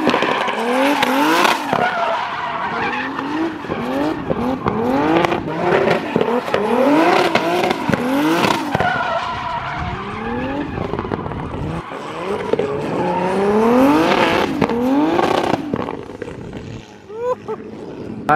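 A turbocharged BMW E46 M3 drifting, engine revving hard in repeated rising surges with tires squealing and skidding, loud and close throughout with occasional faint talk.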